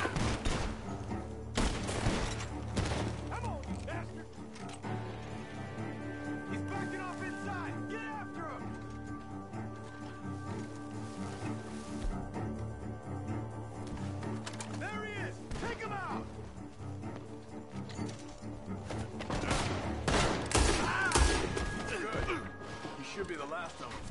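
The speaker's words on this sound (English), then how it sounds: "shots are coming from that barn" Gunfire from a barn in Red Dead Redemption 2, with repeated shots and cracks scattered through a busy scene, near and fairly loud, under speech and game music.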